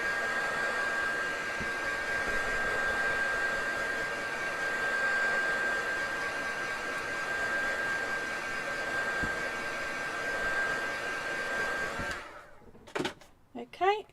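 A hair dryer blows steadily on paint, a loud continuous whirring drone with a thin whine that runs about twelve seconds before cutting off, followed by a few soft handling knocks.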